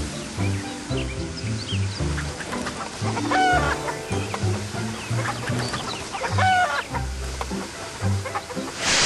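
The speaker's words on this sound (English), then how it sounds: "Only the chickens were left on board." Chickens cluck and squawk repeatedly over a steady musical backing, with a few louder rooster-like calls breaking through.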